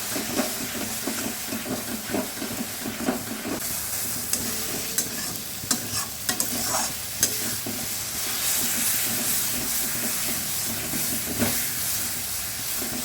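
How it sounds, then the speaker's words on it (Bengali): Ground spices sizzle in hot oil for a mutton curry, a steady hiss broken by repeated scraping stirs of the spatula against the pan, close up with no voices. "এবার এই সমস্ত মশলা কিন্তু একসঙ্গে ভালো করে মিশিয়ে আমরা কষাতে থাকবো।"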